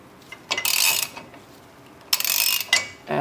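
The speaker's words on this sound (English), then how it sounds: "get a little breaker bar that's a 1/2 inch" A half-inch breaker bar and socket work on the inner tie rod of a 2011 Toyota Tacoma, giving two short, close bursts of rapid metallic ratcheting clicks with a pause between them.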